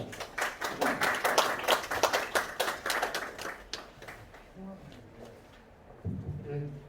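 Scattered clapping from a small ceremony audience at a 4.19 Revolution 60th anniversary commemoration, a few seconds of distinct hand claps that thin out and fade, followed by faint talking.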